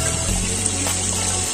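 Water gushes from the outlet of a Goulds 1 hp submersible pump, a loud, close and constant rushing splash with no break.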